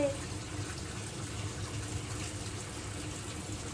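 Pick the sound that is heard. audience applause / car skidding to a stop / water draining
water draining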